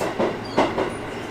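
Train pulled into a station stop on the way to Kyoto, Japan, with a low steady rumble and a couple of soft clunks from the carriage, no talking.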